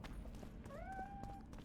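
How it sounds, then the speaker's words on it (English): A cat meows once in The Witcher 2 video game, a short rising-then-level call, faint amid ambient game noise and footsteps. "I heard a cat."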